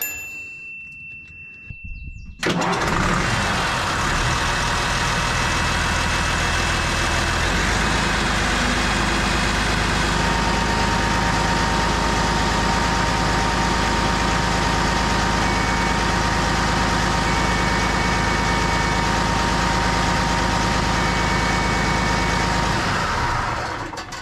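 An excavator engine idles loud and close, a steady dense rumble that kicks in sharply after a quiet start with a faint metallic ding, then runs continuously with no talking.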